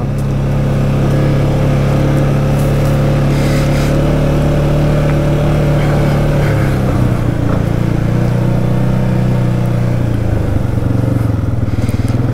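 A Can-Am Outlander 700 ATV engine droning loud and steady while riding uphill on rough terrain, a continuous close hum that dips briefly midway, with faint rattles over it.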